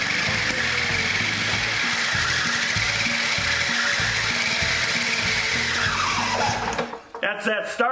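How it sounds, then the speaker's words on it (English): A harsh, rhythmic mechanical grinding and whirring from a faulty starter clutch on a 1960 hand-crank lawn mower's small engine, loud and close, cutting off abruptly near the end. "That's that starter clutch making that horrible noise."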